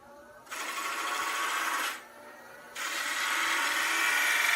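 Wood lathe turning a brush handle during a woodturning club demonstration, with two steady runs of high, whirring cutting noise from the tool on the spinning wood, split by a short quieter pause.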